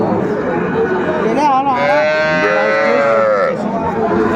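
A young bull calf gives one long, loud, wavering moo up close, amid the murmur and chatter of the crowded outdoor Aftabganj cattle market.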